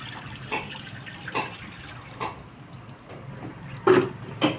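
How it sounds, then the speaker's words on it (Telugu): Water poured over raw prawns in a bowl for washing, soft splashes and trickles coming in several short bursts, close and fairly quiet. "వాటర్ పోసి ఇలా శుభ్రంగా నీట్గా కడుక్కోవాలి"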